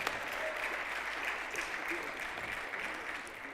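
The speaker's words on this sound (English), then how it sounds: "if I could just get a round of applause for all of the candidates" An audience applauding mayoral candidates steadily, a dense wash of clapping hands that holds throughout.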